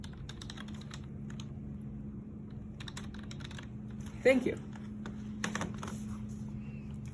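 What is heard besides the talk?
typing an email on computer keyboard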